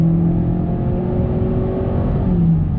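A 2019 Honda Accord Sport with a 1.5-litre turbo engine accelerates under throttle, a smooth, steady interior hum and low drone rising gently in pitch, loud and continuous with no talk.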